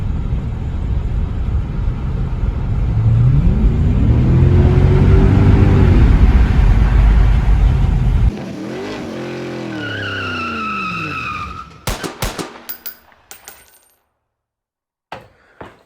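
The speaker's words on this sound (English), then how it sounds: "We got a V8, we got a tunnel coming up, and one muffler cut off." A V8 car engine with one muffler cut off roars loudly as it drives into a tunnel, the echoing exhaust rising in pitch and then fading, followed by a few sharp clicks and clatters before falling silent.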